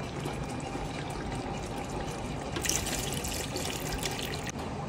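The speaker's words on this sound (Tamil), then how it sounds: "இப்போ நம்ம வந்து தண்ணி ஆட் பண்ணிக்கலாம்." Water pours steadily into a large pot of biryani with softened tomatoes, 2.5 liters for 2 kg rice and chicken, a continuous rushing splash that swells slightly midway and carries on alone.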